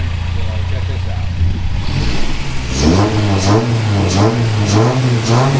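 A repaired 1985 Toyota 4Runner engine idles briefly, then revs up and down in a series of rhythmic bursts, loud and close.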